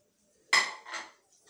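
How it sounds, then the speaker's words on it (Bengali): Rice being served onto a plate, with a loud close clink of a utensil against the dish followed by a softer second scrape and a faint knock, no talking. "এই যে ভাত বাড়ছি"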